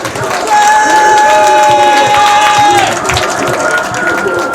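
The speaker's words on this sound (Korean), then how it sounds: "자, 힘차게 박수로 최일배 동지를 모시도록 하겠습니다." A crowd at a 2014 memorial prayer gathering breaks into loud applause and cheering as a guest speaker arrives, with a sustained whistle-like tone over the clapping that then eases off.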